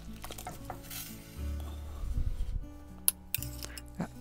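A spoon stirs tom yum soup with shrimp and mushrooms in a pot just after lime juice goes in, with scraping swirls, a soft simmer and a few sharp clinks against the pot.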